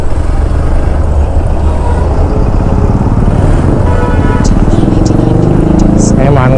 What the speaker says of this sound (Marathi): हे मानगावचं ट्रॅफिक आहे नाही,